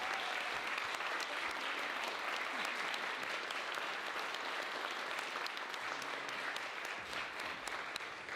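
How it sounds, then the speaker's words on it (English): Sustained audience applause for the judges at a university Three Minute Thesis competition, a dense steady clapping from a large crowd lasting throughout without a break. "can we give you a round of applause"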